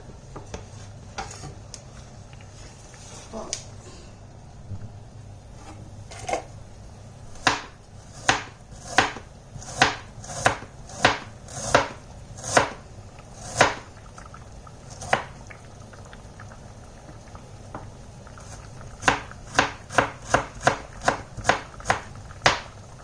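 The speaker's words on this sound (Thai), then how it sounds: "อันนี้ก็จะมาหั่นขิงนะคะ" Knife chopping ginger for a Thai herbal fermented soybean dip: sharp, fairly close board strikes, scattered at first, then a steady run of regular chops in the middle, a pause, and a quick closing burst, over a low kitchen hum.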